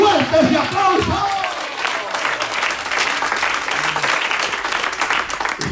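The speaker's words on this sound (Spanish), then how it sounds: "Fuerte ese aplauso." A church congregation applauds during a sermon, a dense, steady wash of clapping that carries on for several seconds, with a voice audible near the start.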